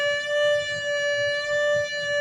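A single violin note is held with slow, wide vibrato so the pitch audibly dips lower and rises higher in an even wavering cycle, clear and steady for about two seconds.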